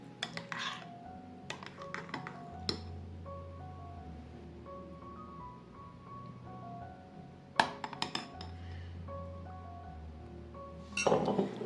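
Spoon clinking against glass dessert bowls as millet dessert is spooned in, a few light, bright clinks scattered through otherwise quiet handling noise, close and clear.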